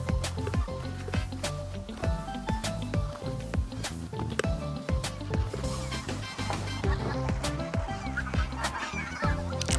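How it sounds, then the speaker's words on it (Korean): A large flock of migratory geese in an empty rice field honks continuously, many overlapping calls near and far in a steady, noisy chorus. "오늘 또 빈 논에는 철새들이 자리 잡고 있다."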